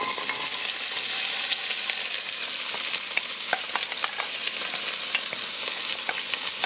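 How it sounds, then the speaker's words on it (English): Chopped vegetable medley sautéing in a pot for vegan lentil soup, giving a steady close sizzle of frying with faint scattered crackles and stirring scrapes throughout, no voices. "So what we're doing is just sauteing the veggies"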